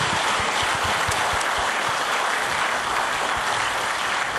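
Audience applause fills an award ceremony hall, a dense, even clatter of many hands clapping continuously and loudly throughout.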